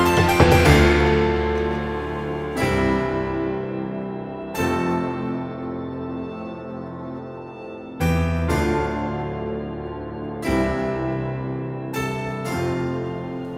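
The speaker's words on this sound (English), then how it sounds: "It's just this kind of high drone sound, and then with a couple effects and stuff" A high synth drone treated with effects, sustained tones layered with bright harmonics that cut off and restart in several sections, loud and up close with no voices.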